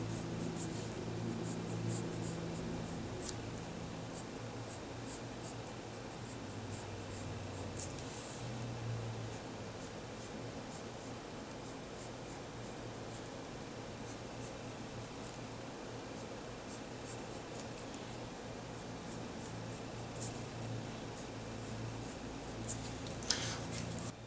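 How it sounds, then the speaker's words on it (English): A pen or pencil dragging along a ruler while long straight outline lines are drawn for a logo, a steady soft scratching and rustling held close up over about twenty-four seconds, with faint clicks near the end. "use your ruler to make sure that each part of it is even, so you can draw long straight lines"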